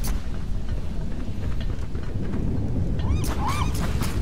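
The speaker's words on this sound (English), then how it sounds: "Is that thunder?" Thunder rumbles through a stormy scene in the Don't Starve: Shipwrecked video game, a steady loud low roar with rain-like hiss lasting throughout.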